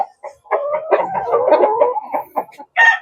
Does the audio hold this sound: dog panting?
no